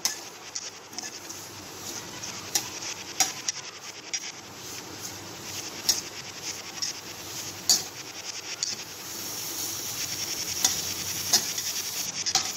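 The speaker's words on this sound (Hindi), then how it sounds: "अब हम इसके अंदर मिल्क पाउडर ऐड कर देंगे इसको भी अच्छे से मिक्स कर लेंगे" A milk powder mixture is stirred and roasted in a pan for a quick homemade sweet, with a soft steady sizzle under repeated scraping strokes of a spoon against the pan, close up and with no one talking.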